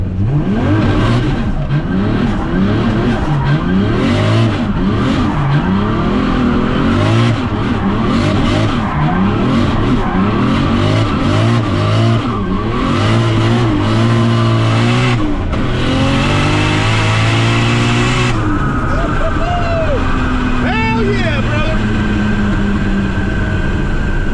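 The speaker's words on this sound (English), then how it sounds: "A quick donut here." A 550hp 2JZ-engined car roars and revs continuously while tyres squeal and skid in repeated donut circles, loud and close, ending with a higher-pitched screech.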